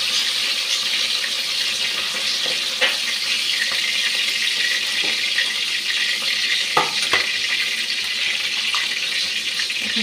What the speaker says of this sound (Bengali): এখানে ডালের বড়িগুলি ভেজে নিচ্ছি।